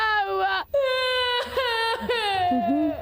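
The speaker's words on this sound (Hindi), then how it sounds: "ये जोर जोर से रोने की आवाज मैंने पहले भी सुनी है।" Cartoon character Nobita wails loudly in long, drawn-out crying bursts with short breaks between sobs, close and alone.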